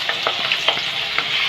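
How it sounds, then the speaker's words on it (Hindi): Green chillies, ginger and cumin seeds frying together in hot oil make a steady, close sizzle with small crackles and pops throughout. "ये वही ऑयल है जिसमें मैंने हरी मिर्च फ्राई की थी, उसी में मैं ये सब डाल दूँगी एक साथ"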